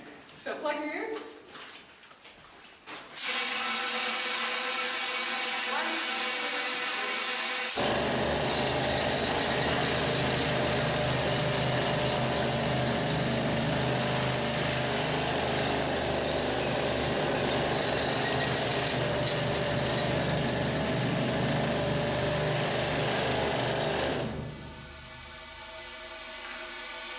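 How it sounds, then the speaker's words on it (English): A jackleg drill running in a mine, a loud sustained pneumatic hammering roar that starts abruptly after a few seconds of speech, holds for about twenty seconds, then cuts off as talk resumes. "And this over here is the jackleg drill."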